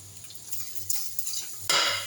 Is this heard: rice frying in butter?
yes